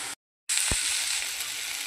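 Water spinach frying in fish oil in a pan gives off a steady, bright sizzle. It starts after a brief silent gap and carries on close and loud, with a soft low knock partway through.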